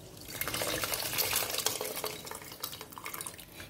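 Tamarind water is poured into a pot of mixed-vegetable sambar and stirred, a continuous close splashing and sloshing with faint scraping against the pot, louder at first and then easing off.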